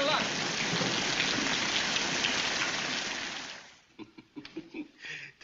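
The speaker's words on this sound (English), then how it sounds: "Oh, it's raining harder." Heavy rain pours in a dense, steady roar for several seconds, then drops away abruptly, leaving scattered drips and faint rustling, in a 1944 film scene.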